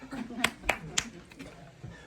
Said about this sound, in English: You clapped?